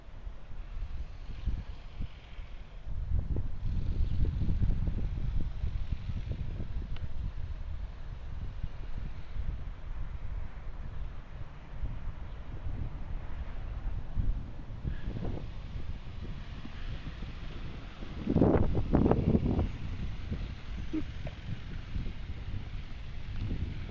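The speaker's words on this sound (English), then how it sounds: "The wind's picked up a little bit." Wind gusts blow outdoors in a steady low rumble, buffeting the microphone and swelling into louder bursts at a few points, with no talk.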